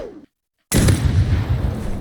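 Grenade explosion used for boosting in the video game Rivals: a brief faint sound cuts to near silence, then a sudden loud blast hits with a rumbling low tail that stays heavy to the end.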